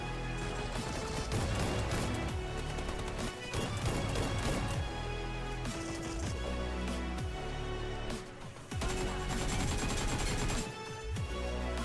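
Rapid gunfire from a mobile battle royale game montage, loud bursts and single shots crackling almost nonstop over a booming music bed, with a brief lull near the end.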